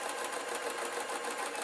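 Sewing machine stitching a Scottish kilt, a fast, even rhythmic whir of the needle running steadily and close for under two seconds with no talking.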